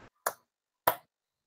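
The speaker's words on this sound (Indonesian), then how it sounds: "kita beri 2 tepuk untuk Kak Anggun." Two sharp, crisp claps ring out about half a second apart in a quiet room, given in applause for a presenter at an online study session.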